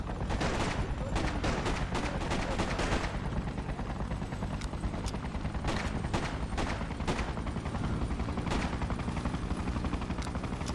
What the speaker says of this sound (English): More soldiers! Shoot them!